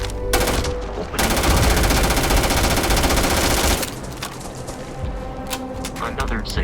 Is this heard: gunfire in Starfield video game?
yes